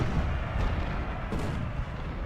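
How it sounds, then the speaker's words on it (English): Artillery booms in the Civil War video game Ultimate General: Civil War over a continuous, dense low rumble of distant gunfire, with a couple of heavier thuds standing out. "The rebels do have some artillery back there."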